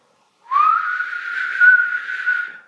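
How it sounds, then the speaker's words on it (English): A person whistles in a dark farmhouse on a ghost hunt: a single sustained whistle rising at the start, then held with slight wavering for about two seconds, close and clear, with no talking. "Can you copy my whistle?"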